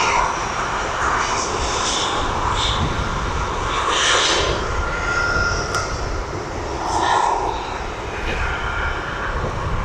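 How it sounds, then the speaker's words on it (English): A Ryanair Boeing 737 jet taxis at East Midlands Airport, its engine producing a steady, broad roar that stays loud and continuous throughout, with no one talking. "We've got a Ryanair 73 taxiing down"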